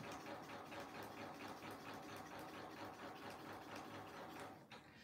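A sewing machine stitches a seam on a fabric tissue box cover, a steady rapid mechanical whir at low volume that slows and stops near the end.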